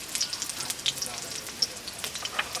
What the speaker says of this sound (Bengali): গরম তেলের মধ্যে এখন আমি দিয়ে দিব পেঁয়াজ কুচি পরিমাণ মতো কাঁচামরিচ কুচি পরিমাণ মতো